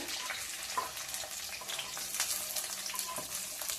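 Capsicum and carrot sizzling in hot oil in a pan, a steady close crackle and hiss that runs throughout with small stirring knocks and no talking.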